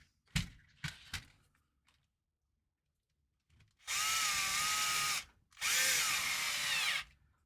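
A cordless power drill driving screws into an RC crawler, with a few light clicks and taps, then two sustained, loud whirring bursts of about a second and a half each, rising slightly in pitch.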